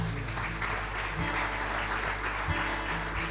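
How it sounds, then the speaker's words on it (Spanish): A congregation applauding in church, a continuous wash of many hands clapping at moderate volume, with a low steady hum and a few soft thumps underneath. "Un aplauso al Señor."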